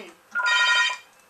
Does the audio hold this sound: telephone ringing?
yes